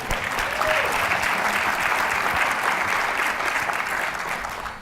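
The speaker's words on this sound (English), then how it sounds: "Let's hear it for Bryce and his Converse shoes" Steady applause from a conference audience, a dense wash of clapping that holds throughout and tapers slightly at the end.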